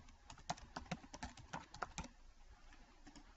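Rapid, irregular clicks of typing on a computer keyboard, quiet and close, in a short uninterrupted run with no voices.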